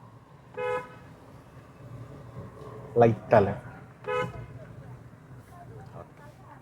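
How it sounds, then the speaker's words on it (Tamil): Two short car horn toots sound a few seconds apart, close and clear, while a person talks quietly in between. "இப்போ இங்கே ஒரு தடவை ஹார்ன் அடிச்சுக்கலாம்"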